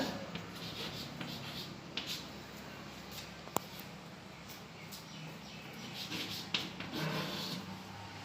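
Chalk or marker writing on a board during a school maths class: faint, continuous scratchy rubbing strokes with a few small taps in a quiet room.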